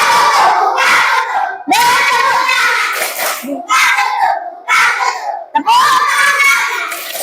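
A classroom group of students plays a clapping ice-breaker game, shouting loud rhythmic chanted responses together in bursts, with claps mixed into the crowd of voices.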